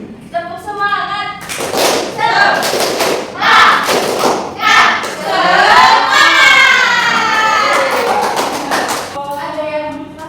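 Schoolchildren in a sixth-grade classroom perform a rhythmic clapping cheer, loud bursts of group claps in patterned beats mixed with shouted chanting voices close by.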